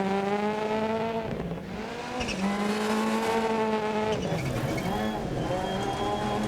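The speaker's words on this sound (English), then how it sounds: "So we've got a bit of a misfire in this stage which is hampering our performance" Rally car engine in DiRT Rally 2.0 racing game, suffering a misfire during a stage: a loud, continuous revving engine drone with rising and falling pitch as gears change, plus tyre noise on the surface, with no speech.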